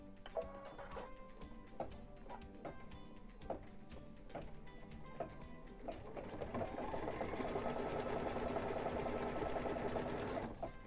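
A sewing machine stitches along the side of a zipper pouch, opening with spaced individual needle taps before settling into a steady, continuous run of stitching at close range with no talking.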